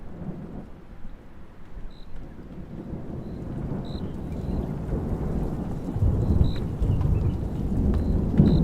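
Night rain pours steadily during a thunderstorm in Namibia, with low rumbling thunder building louder toward the end and faint high chirps from insects or frogs in the background.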